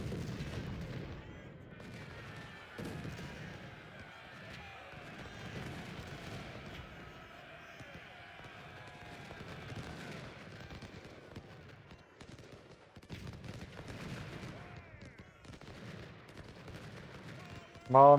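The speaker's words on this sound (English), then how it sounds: "I had hoped the cannons would get their volley off first" Cannon and rifle fire in the Civil War strategy game Ultimate General: Civil War, with scattered gunshots and booming volleys rolling in the distance under a voice.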